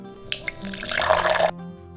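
Water pours in a cartoon for about a second, a splashy stream filling a drinking vessel, then stops.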